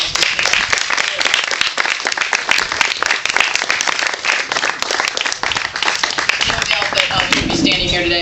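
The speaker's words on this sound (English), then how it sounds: "If we could have a round of applause." Audience applause at a road opening ceremony for a bypass road, dense sustained clapping from a crowd, loud and close, continuing for several seconds with no talk over it.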